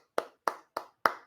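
Hands clap four times at an even, fairly quick pace, each sharp crisp slap standing alone and close, with no voices.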